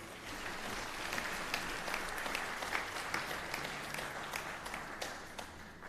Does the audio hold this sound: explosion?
no